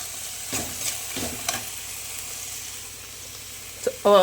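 Ghee poha snack frying in a pan, a soft steady sizzle with a few stirring scrapes at intervals and a brief louder clatter at the end.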